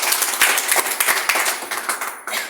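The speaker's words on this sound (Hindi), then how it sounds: "जोरदार तालियां होनी चाहिए।" An audience at an indoor gathering breaks into hearty applause, a dense stretch of many hands clapping that carries on loudly throughout with no talking over it.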